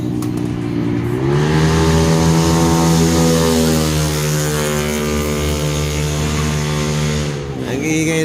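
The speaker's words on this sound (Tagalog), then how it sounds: "Ang ingay ng motor" A motorcycle engine beside a highway drones loudly and close, its pitch rising into a sustained steady hum before dropping off near the end.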